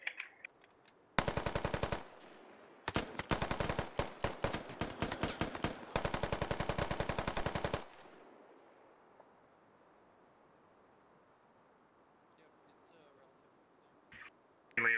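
Three long bursts of rapid automatic machine gun fire in the Squad military shooter game, each a few seconds long and loud, separated by short pauses, then quiet ambience with a few faint distant sounds.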